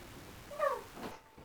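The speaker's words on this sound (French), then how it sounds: "Miaou, Kisha." A house cat gives one short, rising meow, fairly faint against quiet room noise, with a soft rustle after it.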